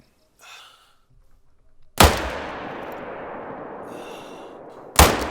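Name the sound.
Quist Reaper 7.62x39 rifle shots, theHunter Call of the Wild video game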